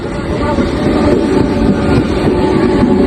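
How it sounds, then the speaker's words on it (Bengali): A Digha to Panskura local train passes close by, a loud continuous rumble of wheels and carriages with wind buffeting the microphone throughout. "দিস ইজ ট্রেন, দীঘা থেকে আমাদের কলকাতা লোকাল"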